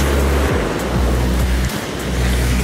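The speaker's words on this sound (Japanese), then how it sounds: "いいえ、雨ではなく、おそらく滝ではないかと。" A waterfall at Roppongi Hills on a cold winter night gives a loud, steady rush of falling water that fills the whole stretch, with no voices over it.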